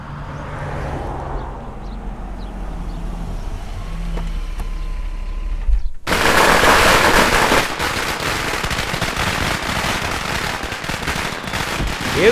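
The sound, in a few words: firecrackers bursting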